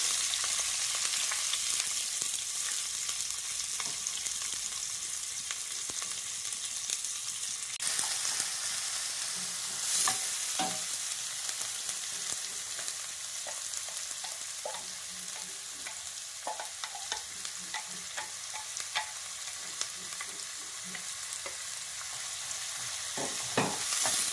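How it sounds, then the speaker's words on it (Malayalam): Cumin, sliced onion, ginger and green chili fry in hot oil for an eggplant curry, producing a continuous bright sizzle with intermittent stirring scrapes and taps close by, and no voices. "ചൂടായ എണ്ണയിലേക്ക് ജീരകം ചേർത്ത് കൊടുക്കുന്നു സബോള ഇഞ്ചി പച്ചമുളക് അരിഞ്ഞത് ചേർത്ത് കൊടുക്കുന്നു"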